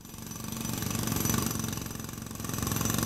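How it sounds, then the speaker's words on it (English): A power drill runs as a rhythmic sound effect in a children's show, a steady rapid mechanical chattering that swells slightly and holds loud and close throughout. "Cat Cool, please show us your skill and start that drill."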